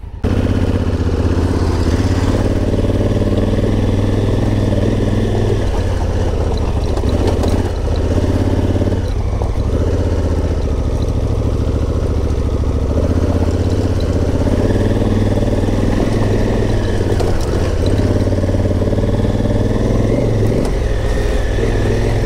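Several motorcycles idle together on an off-road trail in Baboon Valley, a steady loud engine rumble with occasional slight revs, continuous and close throughout with no talking.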